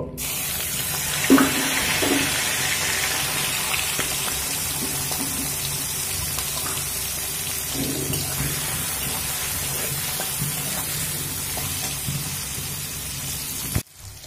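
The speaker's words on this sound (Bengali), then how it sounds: "তো এই চিংড়ি মাছ ভেজে নেব।" Prawns seasoned with salt and turmeric fry in a pan, giving a steady, moderately loud broadband hiss for the whole span, with a brief louder crackle near the start and a clatter at the end.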